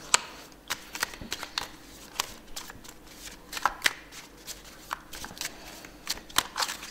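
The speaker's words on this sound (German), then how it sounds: "jetzt werden wir die Karten mischen" Oracle cards of the golden age being shuffled by hand, a series of crisp riffling, snapping card sounds with soft pauses between, close and moderately quiet, no voices.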